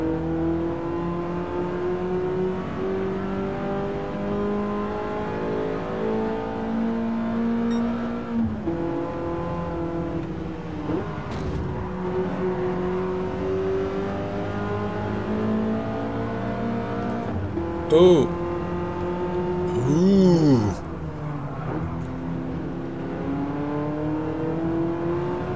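A BMW M3 in a racing video game drones at high revs for a long stretch, its engine pitch holding and then climbing through gear changes. Sharp revving sweeps rise near the end, with no one talking.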